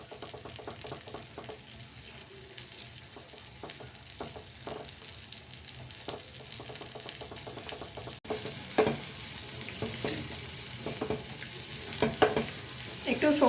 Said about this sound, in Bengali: এবার দেখুন ডিমগুলো এইভাবে নাড়িয়ে নাড়িয়ে ভালো করে ভাজা ভাজা করে নিতে হবে কিছুটা